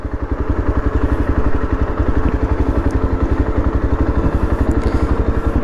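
Yezdi Adventure motorcycle engine idles close by during a slow turn, giving a steady, even, rhythmic thumping at a constant loud level.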